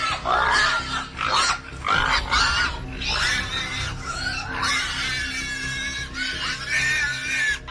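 Feral pigs in Florida grunt, squeal and scream loudly and close, in overlapping bursts that run continuously with almost no pause.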